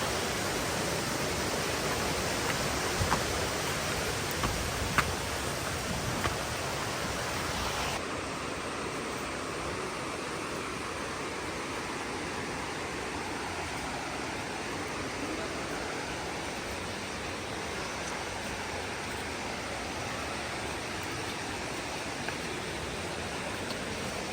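A steady, dense roar of rushing water from Ayyanar Kovil falls near Rajapalayam continues throughout, broad and unbroken, with no voices.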